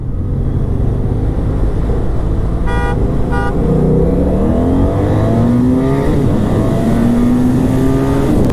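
BMW F800ST motorcycle and 2017 Ford Mustang GT 5.0 in a roll-on race, a loud steady engine drone with rising revs climbing through gears, plus two brief horn toots early on, heard close over wind noise.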